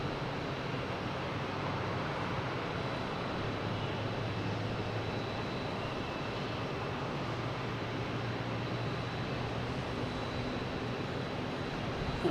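Lufthansa airliner on approach to land at Boston Logan, passing near Paradise Bay, heard as a constant far-off engine roar and low rumble, even in level across the stretch with no talk.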